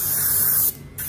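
Close, steady hiss of an airbrush spraying fine paint onto a taxidermy deer mount, cutting off briefly before resuming.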